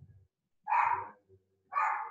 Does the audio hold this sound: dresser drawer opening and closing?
no